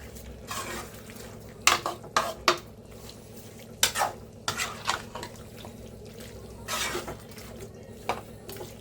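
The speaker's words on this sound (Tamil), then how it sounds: "இப்போ நல்லா ஒரு முறை கலக்கி விட்டுக்கலாம்." A spoon stirs green chicken curry in a metal pan, making intermittent scraping clinks and knocks against the pan with a soft bubbling simmer underneath, moderately close and without talk.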